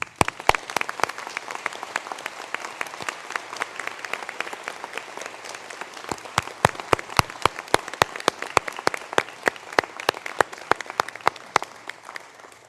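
Graduates at an ATU Sligo conferring ceremony receive a round of applause, steady dense clapping through the hall with sharper individual claps standing out toward the end, no talk over it.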